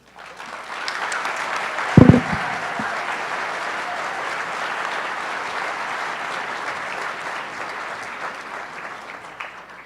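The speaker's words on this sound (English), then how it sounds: "Another round of applause." Audience at a Pecha Kucha talk night clapping steadily for about ten seconds, a broad even roar of many hands with one brief close thump near the start, and no speech over it.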